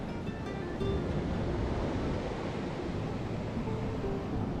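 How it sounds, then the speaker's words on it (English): Ocean surf rolls in steadily along a Nicaraguan coast as the tide builds, a dense, continuous wash of breaking waves heard alone at close range with some wind rumble. "Ooh, the ocean's getting angry."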